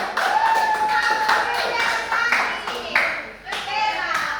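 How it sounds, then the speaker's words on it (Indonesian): Schoolchildren in a fifth-grade primary science class clap together in a loud, rapid patter of many small hands, with children's voices and chatter mixed in and a tonal whistle-like sound running through. "Tepuk tangan dulu semuanya"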